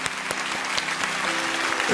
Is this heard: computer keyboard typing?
no